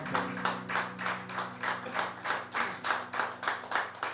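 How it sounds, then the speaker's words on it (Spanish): A church audience claps in rhythmic unison, about a dozen evenly spaced beats, fairly faint, with sustained music tones underneath and no talking. "¿Cuánto le dan un fuerte aplauso al Espíritu Santo?"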